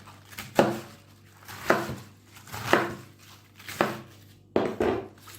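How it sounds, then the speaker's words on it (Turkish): A knife chops through crisp cabbage on a board in steady, evenly spaced strokes, about one per second, close and clear. "İlk önce doğruyorum lahanamı."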